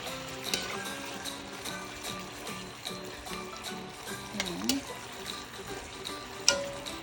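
Spicy chicken adobo is stirred in a pan, with a soft continuous sizzle, scraping and a few clinks close by, and a voice briefly in the background.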